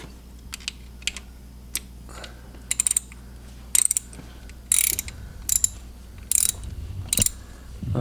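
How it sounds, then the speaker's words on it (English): Ratchet wrench snugging up an oil filter during an oil change on a 1200 4-TEC Ski-Doo, rapid clicking bursts in short irregular runs, close and sharp. "and then use your wrench"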